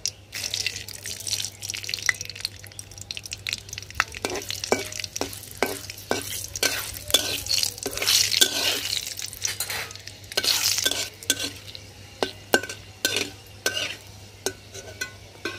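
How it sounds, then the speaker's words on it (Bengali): Bay leaves and fenugreek seeds sizzle steadily in hot oil for a Bengali fish curry tempering, a continuous close crackle broken by frequent clinks and scrapes of a stirring spoon against the pan. "তেল গরম হয়ে গেছে, দিয়ে দেব তেজপাতা, মেথি"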